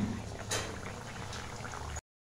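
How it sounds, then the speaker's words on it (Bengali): An egg curry in a pot bubbles softly at a steady simmer, faint and close, for about two seconds before cutting to silence. "ডিমের ঝোলটা আমার সেদ্ধ হয়ে গেছে"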